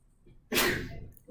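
One sharp, fairly close sneeze bursts out during a lesson and trails off in a breathy fade.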